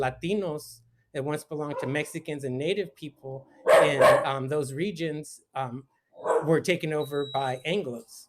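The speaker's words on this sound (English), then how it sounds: "excuse my dogs" Dogs bark intermittently in the background of a room while a person lectures, the barks mostly buried under continuous speech.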